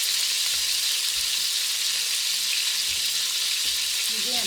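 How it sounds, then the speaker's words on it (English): Beef for boeuf bourguignon sears in a hot pan, giving a steady, close sizzle and crackle of frying throughout, with occasional soft stirring bumps and no talk. "I'm hoping you can hear me because there's a big sear there"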